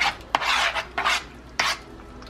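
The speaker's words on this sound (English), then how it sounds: "So we're just gonna mix all of this." Shrimp aguachile verde being stirred in a bowl, with bursts of wet scraping and rubbing in a few uneven strokes, close and moderately loud, plus a couple of sharp clicks against the dish.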